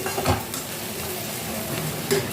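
Food is stirred as it dries in a hot karahi, with a steady close sizzle and a few scraping strokes of the spoon against the pan over about two seconds.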